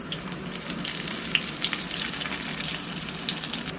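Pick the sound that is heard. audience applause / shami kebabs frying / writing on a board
shami kebabs frying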